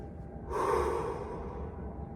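A single deep breath during a breathing exercise: a long, close inhalation swells and then eases off, with no talking over it.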